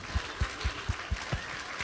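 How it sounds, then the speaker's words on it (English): Audience applause at a county fair queen event, a run of loud, regular low thumps of clapping hands with a broad noisy wash above, steady across the short stretch with no talk. "So I just want everyone to give Jessica a round of applause"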